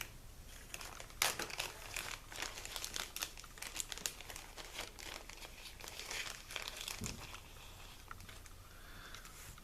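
A plastic bag holding decals from a Team Yankee miniatures set crinkles and rustles close by in irregular bursts, with crisp crackling handling noises rising and falling, no voices.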